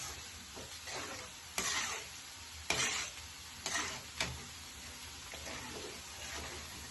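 Thick vathal kuzhambu curry bubbles and simmers in a pan, with soft popping and a few sharp clicks of a utensil against the pot.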